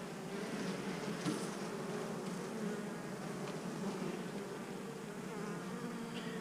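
Honeybees swarm around a beehive, their dense, steady buzz filling the air continuously and fairly close, with no voices.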